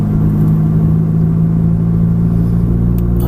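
Ferrari F430 engine droning steadily while driving, a strong low rumble with even harmonic tones holding smooth and loud throughout, no talk over it.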